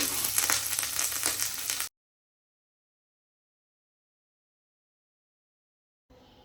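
Crushed garlic, ginger, green chili and curry leaves frying in oil: a close crackling sizzle for about two seconds, then silence, with faint sizzle returning at the very end.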